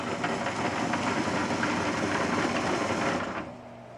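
An MBM 352F paper folder folding stapled sheets, its fast mechanical clatter and whir loud and steady, then winding down near the end.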